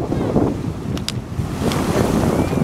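Strong waves wash and churn against a stony beach under steady wind, a continuous rough roar with faint clicks of shifting stones and no voices.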